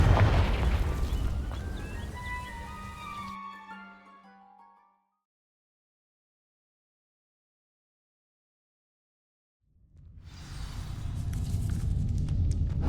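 In the Hogwarts Legacy video game, a Confringo fire spell bursts against dry vines with a loud booming blast and crackling burn that fades to silence, then a rumbling roar swells back in.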